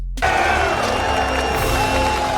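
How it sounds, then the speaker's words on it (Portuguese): A large audience bursts into sustained cheering and applause after a president's rousing speech in the film Independence Day, a dense continuous roar of voices and clapping that starts abruptly and stays loud throughout. "esses aplausos que não estavam no roteiro acabaram indo para a versão final do filme"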